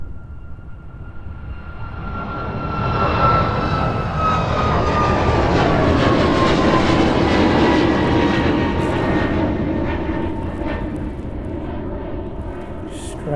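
Ryanair airliner taking off on runway 27 at East Midlands Airport, a loud sustained jet engine roar building over several seconds with a rising whine, then holding steady and easing slightly as it climbs away.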